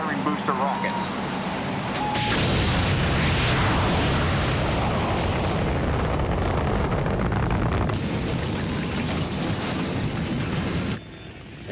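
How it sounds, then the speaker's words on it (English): Booster rockets firing in a sci-fi movie, a loud sustained roaring rumble that swells in after a brief quieter start and holds for about nine seconds before cutting off abruptly, with no talking. "Separation successful, firing booster rockets."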